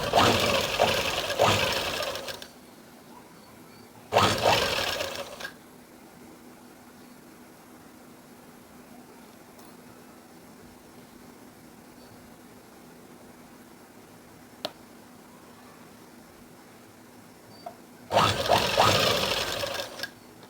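A sewing machine stitches a sleeve onto a blouse in three short, close bursts of rapid whirring and clattering, separated by long quiet pauses with only faint room hum between them.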